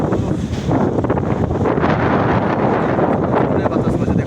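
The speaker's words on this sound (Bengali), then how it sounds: "ওই যে জোরে বাতাস বইছে এইরকম" Strong storm wind gusts through trees in Dhaka city, a dense, steady roar buffeting close to the microphone for the whole stretch without letup.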